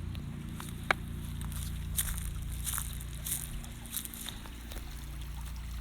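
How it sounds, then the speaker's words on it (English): Soft, continuous creek water trickling over rocks with a low rushing background, faint clicks and splashes scattered throughout, heard from close by. "You can hear the water trickling down the rocks."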